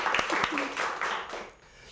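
Studio audience applause after a joke on a Peruvian comedy show, a short burst of clapping mixed with someone talking over it, dropping off near the end.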